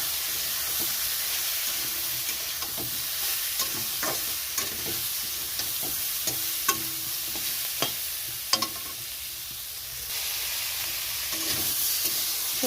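Vegetables with salt, turmeric and cumin powder being sautéed in a pan, a steady hissing fry under repeated spatula scrapes and clacks against the metal, close and loud, no voices.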